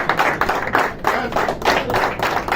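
An audience at a launch event on a yacht in Dubai claps in loud, dense bursts of applause that rise and fall in pulses throughout.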